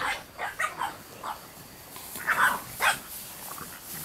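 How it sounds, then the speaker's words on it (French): Several dogs barking and yipping in short, uneven bursts, moderately close and clear, with quieter gaps between the barks. "Les toutous!"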